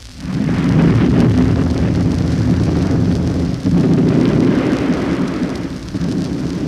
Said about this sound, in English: the sounds of the 8th Army's artillery barrage